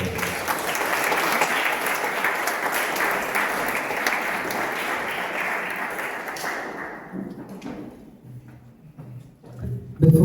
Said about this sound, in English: just give them a generous round of applause